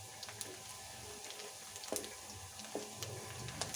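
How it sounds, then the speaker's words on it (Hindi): Onion lightly frying in a pan while cooking tori ki sabzi, a faint steady sizzle with occasional soft stirring clicks and scrapes, close and quiet. "ये प्याज जब तक हल्का सा फ्राई होता है।"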